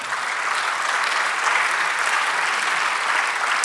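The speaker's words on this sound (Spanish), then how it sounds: "Dale otro aplauso al Señor." A church congregation breaks into sustained, loud applause during a sermon, a dense and even wash of clapping from many hands that holds steady without pause.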